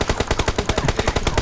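Rapid automatic gunfire in the BGMI battle royale game, a fast, even burst of about a dozen loud shots in under two seconds.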